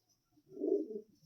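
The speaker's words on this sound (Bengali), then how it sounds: "বন্ধুরা একটা বাচ্চা পায়রা আছে" A young pigeon at a pigeon loft gives one soft, low coo that swells and fades over about a second, close by and quiet, with no talk.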